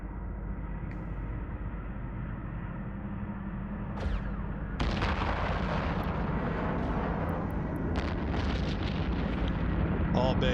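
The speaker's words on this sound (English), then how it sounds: "small base are firing on this guy. And he's taking a beating." Small base weapons fire on a ship in EVE Online, a steady rumbling drone broken by a few sharp blasts partway through, moderately loud under someone speaking.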